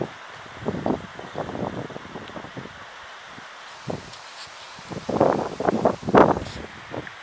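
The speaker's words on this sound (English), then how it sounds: "Still windy, but not as much." Wind gusting through a valley while backpacking in Dolly Sods in spring, heard as irregular rushing bursts and buffeting against the microphone, stronger near the end.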